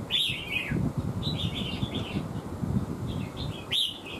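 A mào lân songbird (red-whiskered bulbul) chirps in short bright phrases, several bursts spaced across the stretch, close by over a low background rumble.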